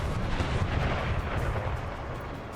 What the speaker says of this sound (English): the artillery is going at it pretty hard